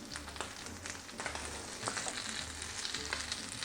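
A sloppy joe grilled cheese sandwich frying in a pan gives off a continuous quiet sizzle with small crackles and a faint low hum underneath.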